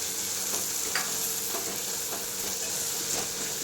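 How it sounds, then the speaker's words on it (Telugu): Fresh peas frying in a pan with a steady close sizzle, punctuated by light scraping stirs every half second or so. "బఠానీ మంచిగా వేయించాలి. చూడండి, ఇలా మంచిగా వేగిపోతుంది."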